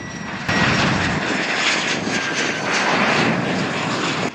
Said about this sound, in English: A U.S. Air Force Lockheed U-2, nicknamed Dragon Lady, conducts an aerial demonstration during the 2022 Marine Corps Air Station Miramar Airshow